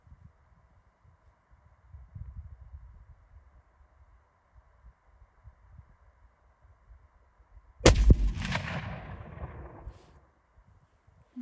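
A single sharp, loud shot from a Seekins Element M3 rifle in 300 Win Mag cracks out after a quiet stretch of faint outdoor rumble, followed by a short decaying echo.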